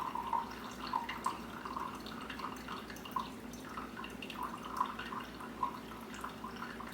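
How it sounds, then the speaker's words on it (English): Coffee being poured from a French press after the plunger is pressed down, giving a soft, steady liquid trickle with faint intermittent drips, quiet and close with no talking. "we're going to pour our coffee"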